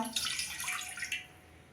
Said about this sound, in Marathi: एक कप आपलं बेसन पीठ आहे म्हणून मी त्याला एक कप पाणी घेते